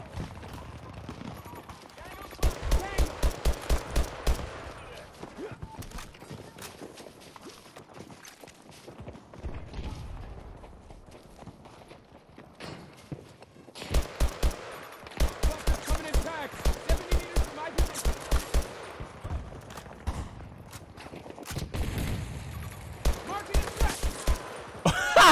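Rapid automatic gunfire in Battlefield 2042, a shooter game played with a zero-recoil SVD loadout: dense bursts of shots in several clusters, loud and close, separated by quieter gaps, with a voice talking between bursts.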